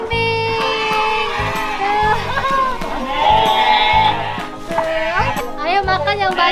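Goats bleat repeatedly while being fed, loud and close, with several overlapping wavering cries in quick succession. Children chatter and call out over and between the bleats.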